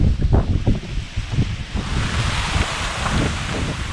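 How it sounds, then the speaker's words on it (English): Strong wind gusts roar across an open lake whipped into whitecaps, a steady broadband rush with buffeting microphone rumble and surging surf, loud and continuous without talk. "Another big wind gust."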